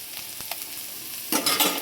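Capsicum and egg frying in a pan, a low sizzle with a few light taps before a louder burst of hissing near the end.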